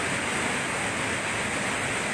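Strong rushing water at a river swimming spot in Mindoro, a dense, constant broadband roar close by with no pauses and no voices.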